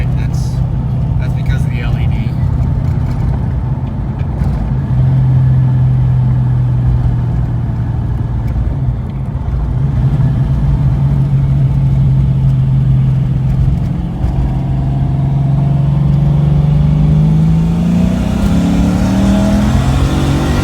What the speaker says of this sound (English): let's do a third gear pull here